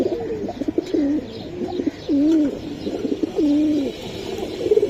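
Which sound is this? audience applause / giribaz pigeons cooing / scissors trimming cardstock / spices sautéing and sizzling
giribaz pigeons cooing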